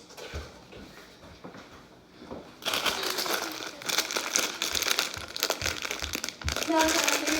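A Hershey chocolate bar wrapper crinkles and rustles loudly as hands struggle to tear it open, dense crackling bursts continuing for several seconds after a quieter start, with voices talking over it.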